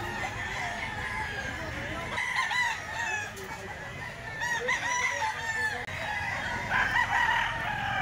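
Several roosters crow repeatedly in overlapping calls amid a busy, noisy chicken market at the Grotto tiangge, with clucking fowl and a crowd murmuring throughout.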